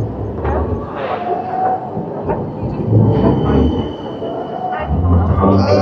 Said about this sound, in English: Got a tram.